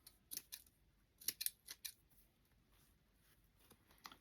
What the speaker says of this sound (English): It's time to sharpen the scissors